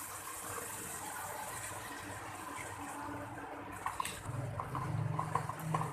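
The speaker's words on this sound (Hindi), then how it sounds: "अब मैं इसमें डाल दूंगी ये जो बैटर मैंने तैयार किया है बेसन का और दही का, ये डाल देते हैं।" A besan and yogurt batter for brinjal kadhi is poured into a cooking pan. A soft, steady liquid gush starts quietly and swells louder toward the end.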